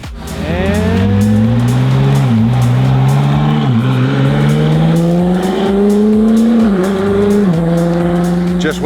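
Koenigsegg Jesko supercar rounding a track corner, a loud, close high-pitched engine scream rising in pitch through several gear-linked swells, with brief dips as it shifts, sustained for several seconds.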